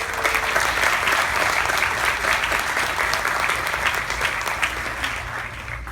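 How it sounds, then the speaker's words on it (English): Graduating high school class applauding at their commencement ceremony, a loud, sustained, dense roll of clapping from a large crowd that eases off slightly toward the end. "I want to allow for a moment for us to give ourselves a round of applause."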